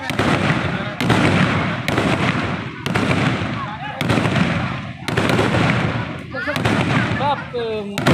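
Firecrackers burst at a Sankranti festival night celebration: a rapid chain of about eight loud, sharp bangs spaced roughly a second apart, each ringing out briefly, with voices talking between them.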